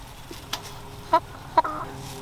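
A Buff Orpington hen gives a few soft, short clucks, spaced irregularly and heard close by against a quiet background.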